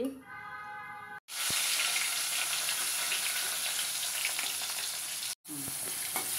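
Sliced pointed gourd fries in hot oil in a wok, giving a loud, continuous sizzle with a couple of brief breaks and faint clinks.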